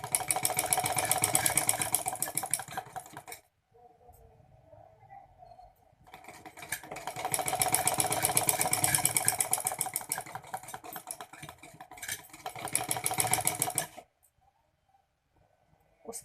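A sewing machine stitches lawn fabric in two long, fast, steady runs separated by pauses, with a short third burst near the end, loud and close with no talk over it.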